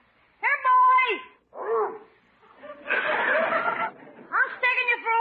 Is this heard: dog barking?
yes